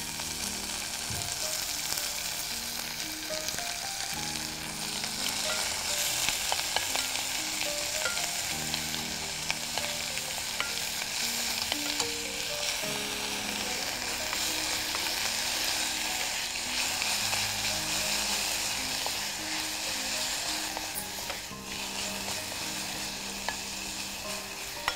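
Greens fry in hot oil with a steady, dense sizzle and crackle that carries on without a break, close and moderately loud, with no voices over it.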